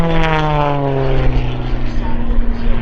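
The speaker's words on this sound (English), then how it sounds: "This airplane and engine combination under the capable hands, the incredibly capable hands of Rob Holland." A high-performance aerobatic propeller plane flown by Rob Holland at an air show roars past, its engine note loud and sliding steadily downward in pitch as it moves away, with an announcer speaking over it.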